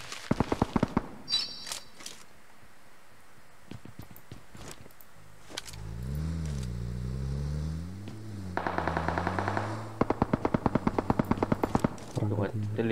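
PUBG Mobile gunfire comes in rapid automatic bursts and sharp single shots, separated by a droning vehicle engine and in-game movement, with players' voices talking over the action.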